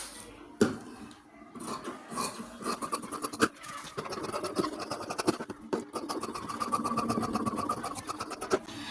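Fabric being cut for an A-line petticoat, with scissors snipping and scraping in irregular bursts close by, alongside occasional sharper clicks and handling noise and no talking.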